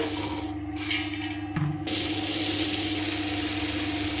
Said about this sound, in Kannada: ನೀರು ಹಾಕ್ತೇನೆ ರುಬ್ಬೇಕು ಇದನ್ನು.